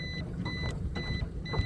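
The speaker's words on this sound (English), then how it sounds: "that beeping you're hearing right here is my shallow water alarm on my Garmin" A Garmin shallow-water alarm on a boat on Banana Lake beeps in short, evenly spaced high pings, four in quick succession, over a steady low engine rumble and water noise.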